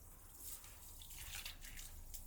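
Water sprays in a steady, soft hiss and patter onto the floor of a van, a continuous wet wash that stays faint and even throughout.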